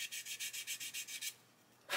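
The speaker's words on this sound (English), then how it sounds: "I'm going to take a sanding stick and remove the paint from the side of the bulkhead here" A sanding stick rubbing paint off the side of a model ship bulkhead: about ten quick, rhythmic back-and-forth scrapes, close and crisp, then a short pause and one more stroke.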